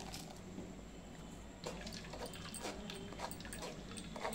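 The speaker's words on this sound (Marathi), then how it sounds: "पाणी टाकते आता." Water poured into a coconut mixture while making solkadhi, a steady, close splashing wash that runs for the whole stretch with no voices.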